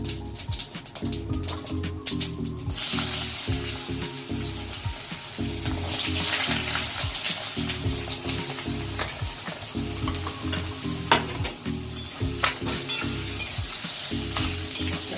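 Potatoes sizzle and crackle steadily in hot oil seasoned with bay leaf and cumin, with rhythmic stirring scrapes in the pan, close and fairly quiet, no talking.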